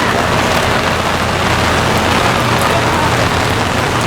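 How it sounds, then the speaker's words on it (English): Heavy rain pours steadily during a severe thunderstorm in Brooklyn, New York, with gusting wind, making a dense, loud, unbroken hiss throughout. "With the rain plus the wind coming in, this storm probably had some weak rotation in it"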